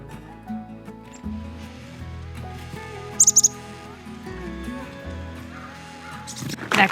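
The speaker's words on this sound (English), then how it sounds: "we also made friends with the little chickadees" Chickadees in a winter provincial park give a few short, high, bright chirps over a busy background of low hum and rustling, with a louder rustling burst near the end.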